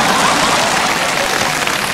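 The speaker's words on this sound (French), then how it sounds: "On l'applaudit pour son imitation de Dalida." A studio audience at a French radio comedy show applauds a performer's impression with loud, dense, sustained clapping that holds evenly throughout and has no talk over it.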